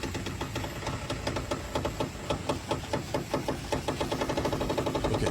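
A swinging hiking bridge at the Cliff Run Preserve in western Ross County creaks and knocks in a steady, rapid rhythm as it sways to and fro, with dense repeated clicks over a continuous rumble.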